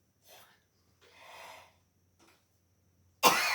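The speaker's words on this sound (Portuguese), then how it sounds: "Minha mãezinha cochilou, tá tossindo." An elderly mother coughs and breathes roughly in a few short, quiet bursts with pauses between them, then a sudden louder noise cuts in at the end.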